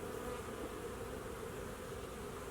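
Honey bees buzz steadily and densely throughout a hive inspection in a novice beekeeper's Colorado hive, a close, continuous drone with no pauses.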